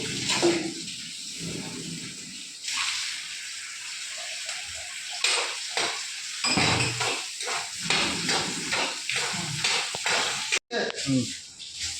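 Onions, tomatoes and chili fry in a pan at home, giving a steady close sizzle broken by repeated clinks and scrapes of stirring.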